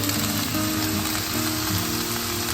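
Two green chillies sauté in hot oil, producing a dense, continuous sizzle and crackle that stays loud and close for the whole stretch.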